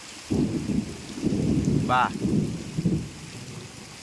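Rain falls steadily over a village, a broad soft patter that swells in short waves for a few seconds while a voice briefly speaks over it.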